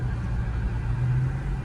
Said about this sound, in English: Got this loud, stanky ass diesel in front of me.